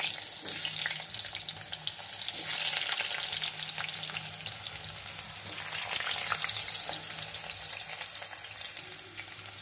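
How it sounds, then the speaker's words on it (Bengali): Potatoes frying in hot oil, a dense continuous sizzle that swells and eases in waves, close and steady for several seconds with a faint low hum underneath and no talking. "আলু ভেজে নেই, তেল গরম হয়ে গেছে।"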